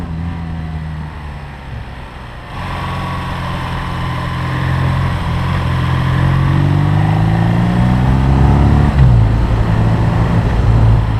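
A 2021 BMW R nineT motorcycle engine pulling under way, a steady loud drone whose pitch climbs as the rider picks up the pace, with rising harmonic sweeps and a brief dip near the end, no voices.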